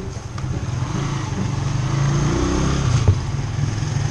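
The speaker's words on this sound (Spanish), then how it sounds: "Vamos dos motocicletas." Two motorcycles riding together on a road, their engines giving a steady low rumble close by with a faint rise near the end and no talking.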